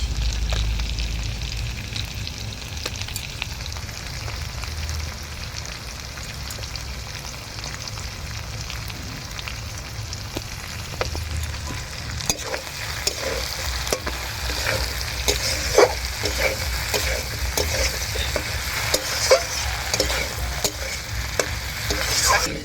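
Slit green chillies sizzling in hot oil in a pan, a steady close crackling fry with scattered sharper pops and light stirring scrapes throughout, no voices.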